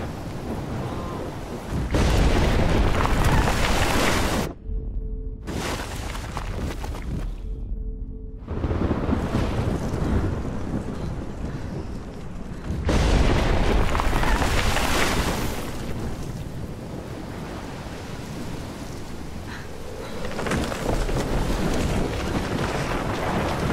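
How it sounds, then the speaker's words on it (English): Tornado storm in Life Is Strange on PS4, a loud roaring wind rush that fills the scene, broken by two brief near-silent gaps before surging back with heavy gusting intensity. "Storm like this in Oregon. Oh my lord! The tornado is back!"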